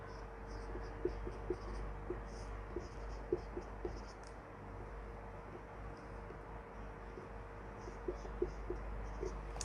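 Pen or marker writing chemical compound structures on a board during a chemistry lesson, faint scratchy strokes and light taps scattered over a steady background hum.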